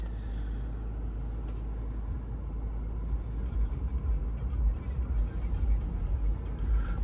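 A Subaru Outback engine turns over and settles into a steady low idle, heard from inside the car as a continuous close rumble that swells slightly toward the end.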